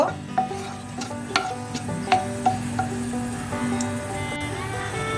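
Cloves and green cardamom frying briefly in oil for chicken pulao, a light crackling sizzle with scattered sharp pops and the scrape of a spoon stirring, close and quiet.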